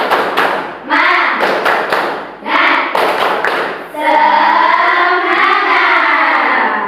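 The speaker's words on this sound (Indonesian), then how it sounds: "biar semangat, tepuk semangat." Several people do a quick rhythmic Indonesian 'tepuk semangat' spirit clap, mixed with loud chanting voices that turn into a sustained group shout.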